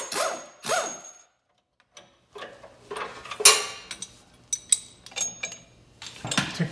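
Scattered metallic clinks, knocks and a brief rattle as a wrench backs off a nut on a leveling kit under the frame of a 2500HD pickup, close and irregular with quiet gaps.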